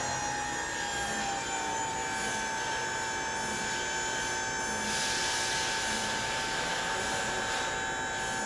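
A Wood-Mizer sawmill's hydraulics raise the log loader, slowed by cold, giving a steady whining hum with a constant tone that grows slightly louder and brighter partway through.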